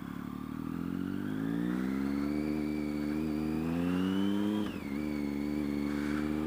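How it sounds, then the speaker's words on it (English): A loud Triumph Street Triple motorcycle is ridden with a steady, rising engine drone that holds close and strong, dips briefly as the throttle eases, then picks back up under continuous wind rush, no voices. "Now an obscenely loud street triple."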